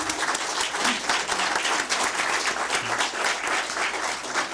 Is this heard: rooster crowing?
no